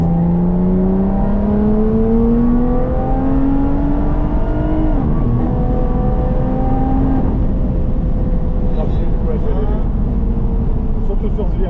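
A Lotus Evora 400 accelerating on the Vaison race track, heard from inside with engine pitch climbing steadily through gears and a brief drop at a shift, loud and continuous with a voice talking over it.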